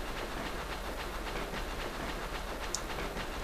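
Train rumbling in the horror video game EchoNight, set aboard a ghost ship: a steady, dense rolling rumble with faint rhythmic clacks runs throughout, loud and continuous, with no talking over it.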